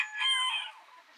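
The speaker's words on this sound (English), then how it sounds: "Brahma rooster. Brahma chickens." A Brahma rooster crows once, close and fairly loud, a strained call that rises and then trails off over about a second, with no other sounds around it.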